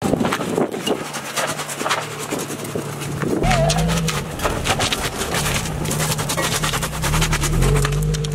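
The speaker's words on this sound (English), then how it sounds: "my car was just squeaking its way to its spot" Car with a welded differential creeping into a parking spot, giving a low steady engine hum with repeated scraping, chirping tire squeaks layered on top, fairly loud and close.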